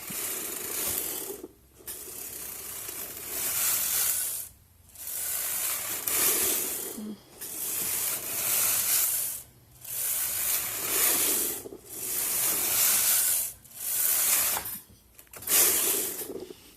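A Brother CH1500 knitting machine carriage is pushed back and forth across the needle bed, knitting rows. Each pass makes a loud raspy mechanical whir of a couple of seconds, and the passes are broken by short pauses with no talk.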